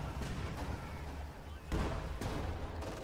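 Anti-tank gun fire in the video game Company of Heroes 2, heard as a few heavy booming shots over a dense battle din of continuous rumble and scattered gunfire.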